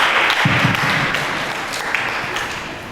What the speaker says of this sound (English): Can we please clap for ourselves?